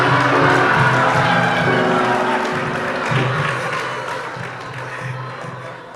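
An audience at an Islamic sermon gathering applauds, a steady wash of clapping that starts loud and slowly fades, with a faint voice under it.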